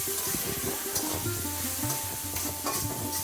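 Spices sautéing and being stirred in a pot for a special mutton curry, a steady loud sizzle with scraping stir strokes throughout, no talking.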